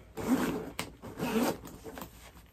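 A zipper on a handbag is drawn back and forth several times, quick rasping pulls close by with short pauses between them.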